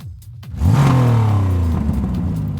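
A Ferrari sports car at a motorsports park racetrack revs up hard, its engine note climbing in a loud, close, sustained roar that holds steady for a couple of seconds with no talking.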